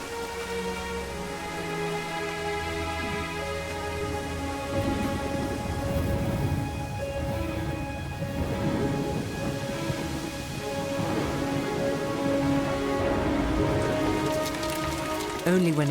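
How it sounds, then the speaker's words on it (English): Steady rain falling on an open cattle field, a continuous dense patter that holds throughout with some low rumbling underneath, fairly close and even in level, with no voices. "Cattle don't mind the rain."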